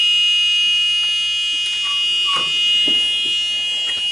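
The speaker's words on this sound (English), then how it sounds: "I'm going to set it to reverse. And the buzzer beeps." A steady, loud high-pitched buzzer tone sounds continuously from a 1999 Club Car DS golf cart's reverse buzzer, with faint clicks and scraping noises underneath.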